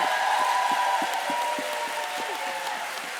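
Audience at a FiLiA conference opening session applauding the BSL interpreters, a steady, sustained clapping from a sizeable crowd through the whole stretch.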